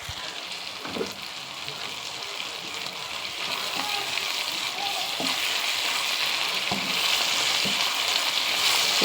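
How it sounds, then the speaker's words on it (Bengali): Ginger garlic paste frying in a pan while lunch is cooked: a loud, steady sizzle that builds over time, with occasional soft stirring knocks and no clear talk. "দিয়ে দিচ্ছি আদা রসুন পেস্ট এটা"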